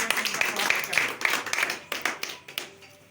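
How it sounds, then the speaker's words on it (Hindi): A crowd at a party workers' meeting claps in welcome: a short burst of sharp, fairly close hand claps that thins out and fades after a few seconds. "इनके लिए भी एक बार जोरदार तालियों के माध्यम से इनका स्वागत करें।"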